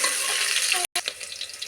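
Onions, curry leaves and tempering spices frying in hot oil in a pan, giving a steady close sizzle with a brief break partway through, then resuming slightly softer.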